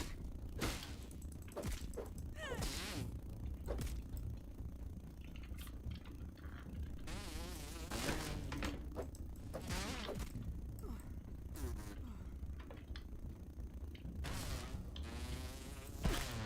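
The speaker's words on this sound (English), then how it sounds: "I heard the sound of a mosquito" A mosquito buzzing in the game Grounded, a thin whining drone that rises and fades in waves over a constant low background hum, fairly faint.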